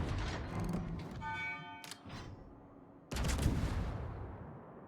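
World of Warships naval battle with a USS Tennessee battleship's main guns: a heavy, broad boom opens, a second deep blast lands near the three-second mark, and rumbling roars and mechanical creaks carry between the shots.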